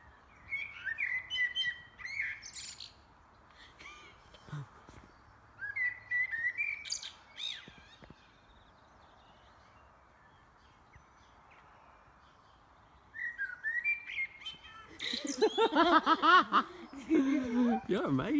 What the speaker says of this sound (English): This bird sings